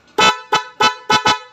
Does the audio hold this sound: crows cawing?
no